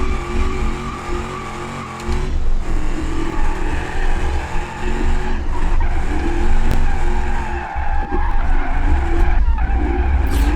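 In the driving game BeamNG.Drive, car tyres screech in long, loud squeals through a drift, with brief breaks and engine revving underneath, and no voices.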